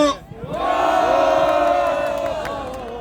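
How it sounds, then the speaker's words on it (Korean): An outdoor crowd of elderly protesters at a rally near Tapgol Park, demanding a president's arrest and removal, lets out one loud, sustained collective shout that swells and holds for about three seconds before fading slightly. "다시 한번 큰 함성 부탁드리겠습니다"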